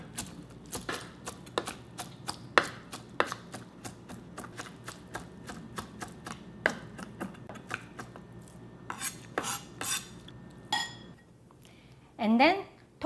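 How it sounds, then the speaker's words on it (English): A knife chops noodles into small pieces on a board for kimchi dumplings, sounding as a long, fairly steady run of sharp, close taps, then a few heavier knocks and a short scrape near the end. "I'm going to chop them into really small pieces"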